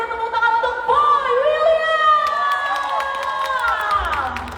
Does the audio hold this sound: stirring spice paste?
no